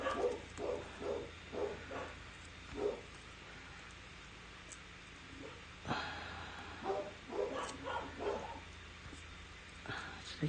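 Several dogs bark in repeated bursts of rhythmic yaps, moderately close indoors, with a short pause before a fresh round of barking.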